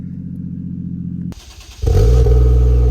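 A Toyota Soarer with a new exhaust idles with a steady low rumble, then a brief turbo blow-off whoosh cuts in before the engine rises to a loud, sustained rev close by.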